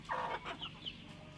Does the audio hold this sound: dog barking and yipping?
no